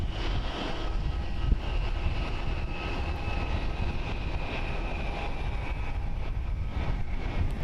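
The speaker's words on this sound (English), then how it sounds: "That was Japan Airlines flying 607 going to Nagasaki on a Boeing 737-800, 17 years old." A Japan Airlines Boeing 737-800, seventeen years old, flies past at Haneda Airport in Tokyo, its engines a steady, fairly distant broadband roar that holds level throughout, with no voices.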